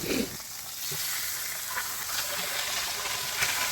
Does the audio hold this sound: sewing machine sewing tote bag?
no